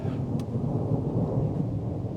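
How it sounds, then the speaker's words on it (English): Thunder rumbles low and steady during a windy lightning storm with heavy rain nearby, a continuous deep roll filling the whole stretch with no voices. "it is getting dark, windy, and thundery"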